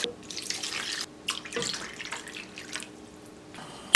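Water poured from a container into a cooking pot to make a dried-anchovy broth for acorn jelly rice soup, a steady splashing gush in several bursts, close and alone.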